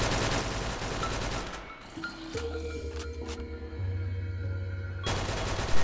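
Gunfire in a video game fighting infected parasite creatures, a burst of loud shots with a low sustained rumble and tonal hum beneath, continuing steadily before another sharp blast near the end.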